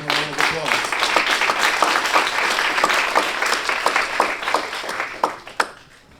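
Audience applause at a boxing and combat sports awards ceremony for an absent award recipient, a steady wash of many hands clapping with a few sharper claps standing out, tapering off toward the end, with some voices underneath.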